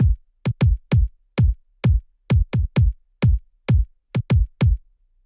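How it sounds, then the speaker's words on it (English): Gated kick drum programmed in FL Studio for a UK garage track, a dry, punchy low thump repeating in a syncopated pattern of short and paired hits, each cut off sharply, loud and alone. "first things first, we'll start with the drums. So we got the kick."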